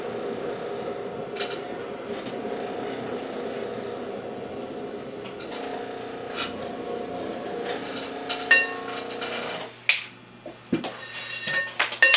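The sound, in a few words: wooden paddle patting thrown clay for texture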